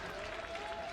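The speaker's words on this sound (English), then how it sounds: "both teams now taking the applause of the crowd" A crowd applauds the players at a women's ultimate frisbee quarterfinal between Great Britain and France, a dense, even wash of clapping from the stands, fairly quiet and distant.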